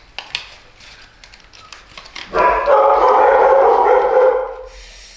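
A pet dog barks and howls indoors while origami paper is folded; a few sharp clicks and paper sounds come first, then a loud, sustained near howl-like bark holds for about two seconds before trailing off.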